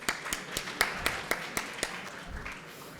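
At a panel event on innovation and entrepreneurship, audience applause is led by distinct, evenly spaced loud claps close by, backed by a softer scatter of other hands, tapering off toward the end.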